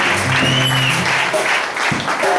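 A church congregation applauding together, a steady dense wash of clapping that fills the whole moment, loud and close.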